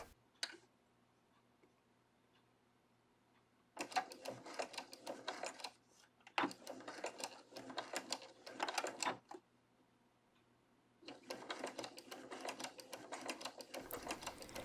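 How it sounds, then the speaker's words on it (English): A sewing machine stitches a seam while turning a 90-degree corner, running in three loud bursts of rapid rhythmic needle clatter separated by brief pauses, with a steady low hum underneath and no talk. "I'll start out sewing normally and stop just before I reach the corner."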